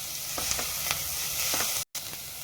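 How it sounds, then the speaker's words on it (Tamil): Onions sautéing in a pan for manathakkali keerai poriyal, a steady close sizzle with soft stirring scrapes and one brief cut of silence, no voices. "இப்போ வெங்காயம் வதக்கியாச்சு"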